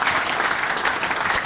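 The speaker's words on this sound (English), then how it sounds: "if you could just give them a round of applause, they deserve one too." Steady audience applause at a government launch speech, dense continuous clapping from a crowd throughout, fairly loud and without talk.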